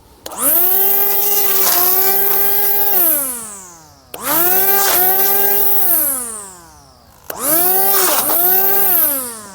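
A small light-duty brush cutter (grass trimming machine) cuts through a banana plant stem. Its engine revs up loud and close three times, holds a high whine, then drops back to idle between each cut.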